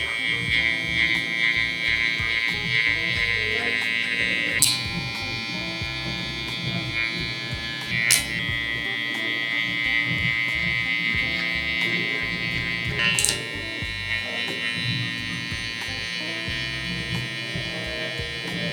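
Electric hair clippers fitted with a #12 guard buzz steadily while cutting a mullet, a close, continuous hum broken by a few brief sharp clicks, with no speech.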